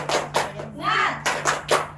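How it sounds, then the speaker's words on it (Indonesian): A schoolroom class claps a spirit-clap rhythm during a microteaching lesson, several sharp, close bursts of group clapping in a quick pattern, broken by a short spoken call in the middle. "Ya, tepuk semangat."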